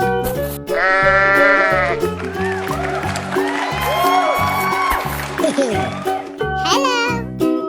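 Sheep in a 3D animal slide game bleat in wavering, childlike baa calls, several in a row, over cheerful background music with quick sound effects.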